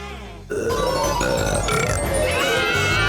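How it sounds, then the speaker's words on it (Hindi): A loud, long, gurgling burp follows drinking a bottle of cola, starting abruptly after a short pause and rolling on with a throaty, wavering tone to the end. "और अब एक असली डकार।"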